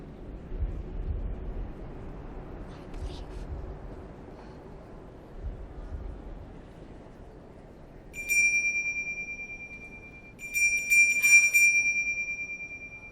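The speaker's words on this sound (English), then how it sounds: "what a beautiful bell" A Polar Express sleigh bell rings clearly twice in the latter part, bright sustained tones over low background rumble and indoor room noise.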